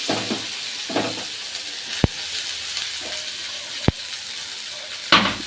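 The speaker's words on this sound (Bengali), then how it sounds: "উচ্ছে আলু ভাজা বসিয়ে দিয়েছি" Bitter gourd and potato fry in a pan with a steady, close sizzle and hiss, broken by a few sharp clicks of a spatula or utensil against the pan.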